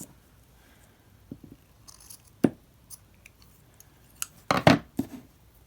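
Scissors snip the end of a pulled-tight necklace cord on a handmade polymer clay jewelry piece, a few quiet close clicks and short cuts, the last ones louder, in an otherwise quiet room.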